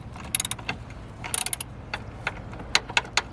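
A hand tool loosens the battery hold-down bolt on a 2015 Nissan Versa, giving sparse ratcheting clicks and small metallic taps in short irregular bursts, close up with no talking.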